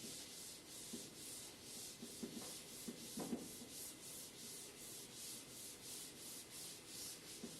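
Someone rubs an eraser back and forth across a classroom board, giving a steady, rhythmic scrubbing sound that stays quiet and close with no talking.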